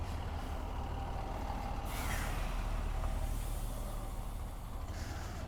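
A truck halted at the roadside amid roadworks on a hill road near Dhom, Wai, gives a short air-brake hiss over a constant low engine and road rumble, with no voices.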